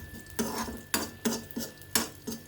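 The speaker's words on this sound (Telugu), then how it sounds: "వీడియో కోసం నేను తాలింపు వేస్తున్నాను" Spices for a tempering tossed into a little hot oil, giving a series of short, crisp sizzling bursts with faint metallic spoon taps, quiet and close, no voices.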